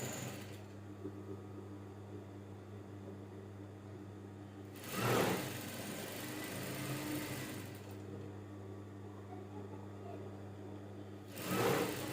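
Sewing machine stitching the back pieces of a child's native top, a steady, fairly quiet mechanical whir running for long stretches, broken by two brief louder bursts of handling noise.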